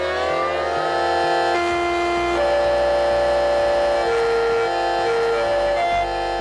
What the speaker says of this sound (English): First is Yamaha Music Siren.